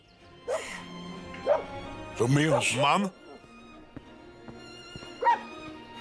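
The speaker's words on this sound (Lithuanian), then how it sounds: "Vaikštinėjau ir išgirdau lojimą. Kam priklauso šunys?" Dogs at a ranch bark in a few scattered yips and one louder burst of barking, heard close, with someone speaking briefly.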